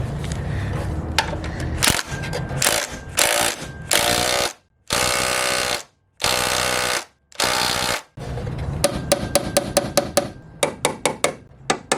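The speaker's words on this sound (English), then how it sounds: "put a nut on it, and just tighten that up" Metallic clicks and scrapes of a wrench tightening a nut on a thin custom aluminum wiper-delete cowl from a Ford EF hatch, with bursts of broadband noise and a rapid run of sharp ratcheting ticks near the end.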